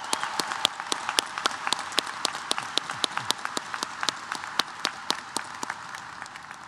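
At a new student convocation, an audience applauds a university marching band. Sharp individual claps ring out in a loose, repeating rhythm over a softer background of crowd applause.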